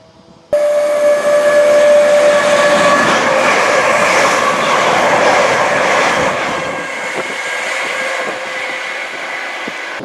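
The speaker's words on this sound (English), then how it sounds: "I have no idea what that flipping noise is" A loud train rumbles through Farnworth station on the Bolton Corridor with rattling, screeching wheels and a steady high whine, a brief whistle-like tone early on, then fading slightly toward the end.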